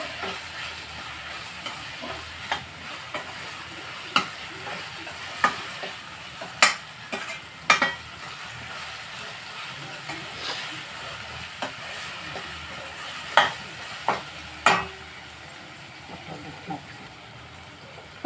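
A curry of chicken with ginger-garlic paste is stirred and fried in a pan: a soft continuous sizzle with a scatter of sharp spoon scrapes and clinks, while a person talks over it.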